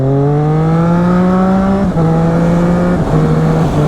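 A Triumph Street Triple 660 motorcycle engine pulls hard under acceleration, its loud, close, rising whine climbing in pitch and dropping briefly at two quick gear shifts before climbing again.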